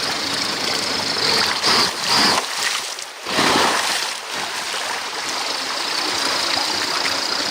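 An RC 6x6 offroad truck driving through water with its tires spinning, a loud continuous rushing, splashing roar with a small electric motor whine, swelling and briefly dipping, close by.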